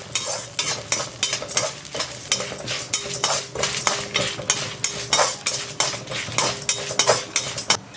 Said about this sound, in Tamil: இப்போ நம்ம போட்ட பருப்பெல்லாம் நல்லா செவக்க வறுத்தாச்சு.